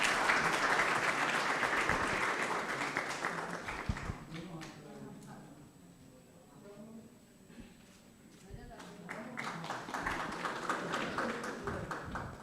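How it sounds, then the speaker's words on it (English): Audience applause for guests and dignitaries at a diaspora club book and study material launch, clapping loud at first, dipping in the middle, then swelling again. "Can we have a huge round of applause?"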